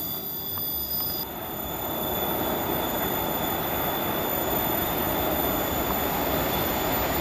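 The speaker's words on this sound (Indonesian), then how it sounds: "Akan melintas kereta api Taksaka." The Taksaka passenger train rolls past at close range with a loud, sustained rumble of wheels on rail and a thin metallic squeal, filling the whole stretch without pause.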